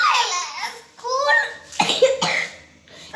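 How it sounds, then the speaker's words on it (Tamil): A child coughs several times at close range, with bursts of laughter and childish babbling mixed in. "எதுக்கு இருமுற?"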